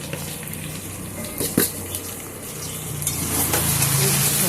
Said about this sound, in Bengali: গাঁঠি আলু পেঁয়াজ একসাথে ভালো করে আমি একটু নেড়ে চেড়ে মিশিয়ে দেবো। এগুলো একটু লাল লাল করে ভেজে নেব।